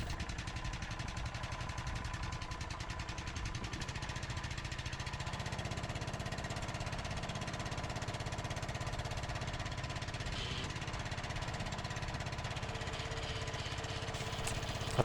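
A Stiga Park ride-on lawnmower engine runs steadily after starting, a continuous loud mechanical drone with a throbbing low rumble that holds even and unbroken throughout.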